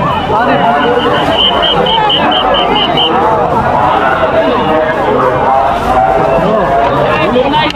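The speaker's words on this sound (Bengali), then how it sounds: "এখানটায় কিন্তু প্রচণ্ড ভিড়" Dense crowd of pilgrims at the Kumbh Mela, a thick, loud hubbub of overlapping voices and movement, with a brief high whistle-like tone early on and a close voice talking.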